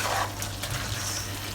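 Chicken wings stirred in bubbling buffalo hot sauce, soft steady sizzling and frying under gentle scraping and stirring motions, fairly quiet and close.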